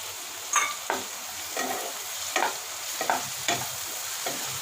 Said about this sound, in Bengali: এবার এটাকে যতক্ষণ না পেঁয়াজ আদা রসুনের কাঁচা গন্ধটা চলে যাবে ততক্ষণ ধরে ভাজবো।